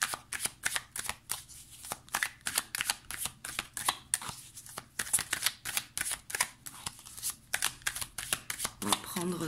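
Tarot cards are shuffled in quick, crisp riffling bursts, close and rhythmic, repeating steadily with a soft voice murmuring underneath.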